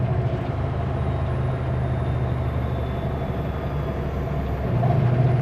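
A Super B truck idles loud and steady through a brake check, its broad low engine rumble continuous with a slight swell near the end; no distinct air-brake hiss stands out.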